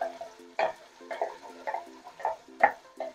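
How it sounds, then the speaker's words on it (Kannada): Chili powder fries in a little oil for a fish curry while a spatula scrapes the pan in regular strokes, about two per second. Each stroke is set over a low steady hum, and a faint sizzle sits between the strokes. "ಈಗ ನಾನು ಚೆನ್ನಾಗಿ ಫ್ರೈ ಮಾಡ್ಕೊಳ್ಳೋಣ, ಸ್ವಲ್ಪ ಆಯಿಲ್ ಅಲ್ಲೇ ಖಾರ ಫ್ರೈ ಮಾಡ್ಕೊಬೇಕು."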